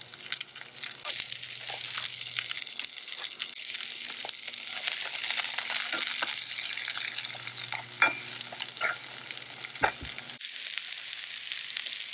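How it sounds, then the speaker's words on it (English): Peppers and zucchini sauté in a pan on a wood stove at a camp brunch, a continuous close sizzle with scraping stirs from the utensil, and a faint low hum beneath. "So while the veggies are sauteing"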